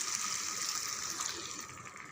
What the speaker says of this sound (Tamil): இப்போது 1 டம்ளர் தண்ணி விடுங்க.